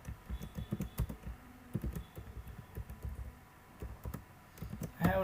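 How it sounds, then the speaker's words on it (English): Close, quick clicking of keys on a computer keyboard as code is typed, an irregular run of taps at moderate volume with brief pauses, alone without talk. "now I'm gonna type some Ruby code here"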